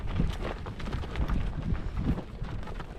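Horse hooves clopping steadily on the ground while cattle are being moved and weaned calves pushed along, a busy, continuous outdoor rumble with no speech.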